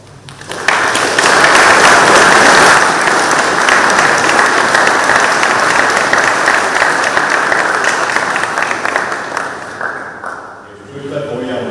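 A church congregation applauds to welcome a new deacon at a memorial plaque unveiling, with loud sustained clapping from many hands that starts abruptly, holds steady for about ten seconds, then tapers off.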